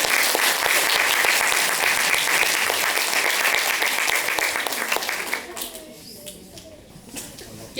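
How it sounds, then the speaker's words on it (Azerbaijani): Sustained audience applause at a concert and Braille book presentation, a dense wall of clapping that holds steady for several seconds and then thins out and fades toward the end. "Gəlin balaca qəhrəmanlarımızı ürəkdən alqışlayaq."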